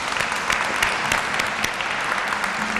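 An audience at a public health event gives a round of applause, steady, fairly close clapping lasting the whole short stretch with no talk over it.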